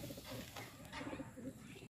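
Rampuri high-flyer pigeons coo softly in low, rolling warbles, several calls overlapping close by against a faint background murmur, in Lucknow.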